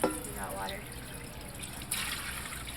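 Water runs steadily from an RV tap once the water pump is switched on, a close, continuous trickle and splash, with people talking over it.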